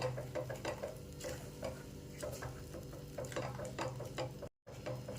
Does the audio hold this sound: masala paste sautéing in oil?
yes